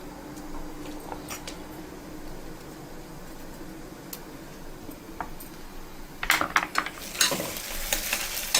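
Something sautéing in a pan in a South Indian home kitchen: a low, even sizzle with sparse light taps, then a burst of louder, closer scraping and clattering stirring over the last couple of seconds.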